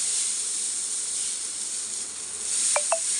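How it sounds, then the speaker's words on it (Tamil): Dosa batter spread on a hot griddle gives off a steady, bright sizzling hiss, close and even throughout, with a couple of short clicks near the end. "உங்கள் முன்னாடியே நான் ஒரு தோசை ஊற்றுறேன் பாருங்கள்"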